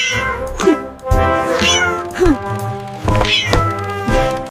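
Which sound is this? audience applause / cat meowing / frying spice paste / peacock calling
cat meowing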